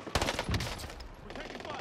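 Gunfire in the Warzone video game: a quick, dense volley of sharp reports, loudest at the start, fading into a continuing rattle of fainter shots.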